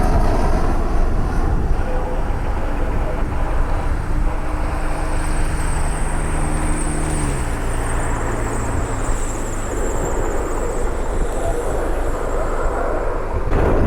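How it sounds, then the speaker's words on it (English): A Hawker business jet flies past, a loud, steady roar with a faint high whine and slowly shifting engine tones sustained for about fourteen seconds, with no talking. "Got a SkyQuest Hawker inbound from Columbus Rickenbacker."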